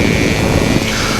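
A light aircraft's engine drones loud and steady in flight, heard from inside the cabin as a continuous propeller roar.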